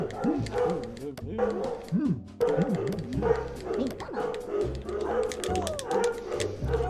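Dogs barking and yipping in short repeated bursts at close range, mixed in with someone talking steadily over them.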